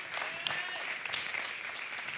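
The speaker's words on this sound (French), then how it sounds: "Et là, vous pouvez applaudir." A church congregation applauds after a sermon passage, soft and somewhat distant, a steady wash of clapping with a few sharper individual claps standing out.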